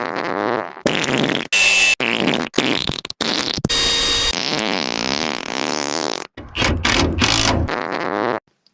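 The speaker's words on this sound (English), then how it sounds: "All of these minty fart sounds that I dial into these clips" A string of loud, juicy fart sound effects, rigged for a 1985 Ford Hino diesel truck, fires in quick bursts of varying length with short gaps between them. Some are long and drawn-out, others sharp and brief, and one squeaky tail rises near the end.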